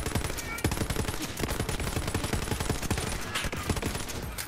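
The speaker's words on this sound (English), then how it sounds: "They have sniper rifles." Rapid, dense gunfire from enemy sniper rifles in the shooter game Borderlands 3, loud and continuous volleys of sharp cracks close by, with no speech over them.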